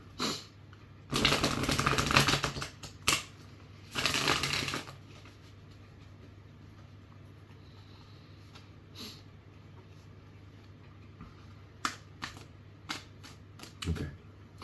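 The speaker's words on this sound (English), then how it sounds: "I'm struggling to shuffle this deck a bit." A deck of cards is shuffled by hand in two loud riffling bursts of rapid fluttering clicks, followed by quieter scattered card snaps and handling noises.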